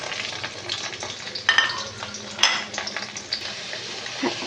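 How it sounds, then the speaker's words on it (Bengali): Ginger paste, cumin paste and chopped tomato frying in a pan, a close sizzle broken by bursts of sharper hissing and spoon clinks against the pan as each ingredient goes in, no speech. "প্রথমে আদা বাটাটা দিচ্ছি, তারপরে জিরে বাটাটা দিয়ে দিলাম, টমেটো কুচিটা দিয়ে দিলাম"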